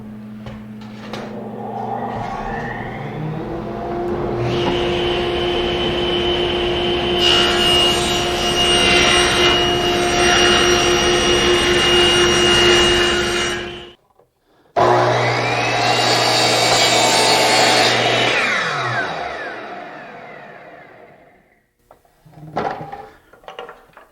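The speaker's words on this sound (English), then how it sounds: "I'll rip those out of 3/4 inch birch plywood" Table saw ripping 3/4 inch birch plywood into strips: the blade spins up, whines loudly through a long cut, stops, then runs through a second cut before winding down, with some clattering at the end.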